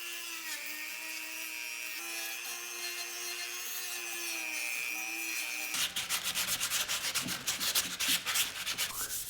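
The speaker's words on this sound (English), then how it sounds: "I used 180 grit with the oscillating mouse sander, then 220 grit with the block sander" An oscillating mouse sander with 180 grit works red oak for a charcuterie board, a steady whirring rasp that shifts partway through into rapid, pulsing scrubbing strokes, loud and close with no voices.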